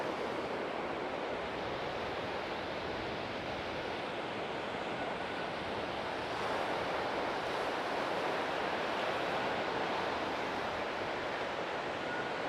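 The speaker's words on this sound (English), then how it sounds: "And here we are, right at the beach." Steady broadband surf of ocean waves at Ocean Beach, San Diego, near the pier with surfers out, washing continuously with a faint wind rush throughout and no talking.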